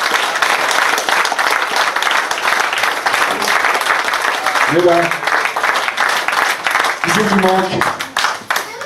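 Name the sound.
audience applause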